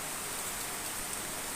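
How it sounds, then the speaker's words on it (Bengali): Heavy rain falling outside, a steady broadband hiss of downpour with no breaks, moderately loud and even across the short stretch; no voices. "খুব বৃষ্টি পড়ছে।"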